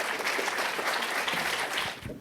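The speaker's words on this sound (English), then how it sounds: "a round of applause for our panelists and moderator" A room of listeners applauds panelists and a moderator at an evening talk on life abroad as an Asian creative, dense and loud clapping that swells and then fades toward the end.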